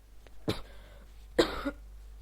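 Two sharp coughs, about a second apart, close and fairly loud against quiet background hiss.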